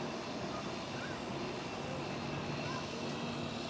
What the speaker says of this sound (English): Atlas Air 747 is landing